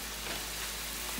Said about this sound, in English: And now we're ready to add the sauce into the onions.